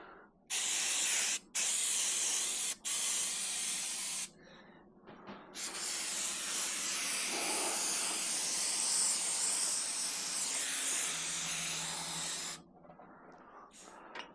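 Compressed air hisses in short blasts and then a long steady spray while blowing off a part from a Dal Soggio bicycle suspension fork, close and fairly loud with brief pauses between bursts.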